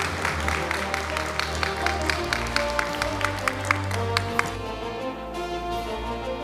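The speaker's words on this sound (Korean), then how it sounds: "큰 박수로 맞아주시길 바랍니다." An audience at a talk on optical interconnection and silicon photonics claps to welcome the speaker, with scattered, fairly distinct claps over a low hum, thinning out toward the end.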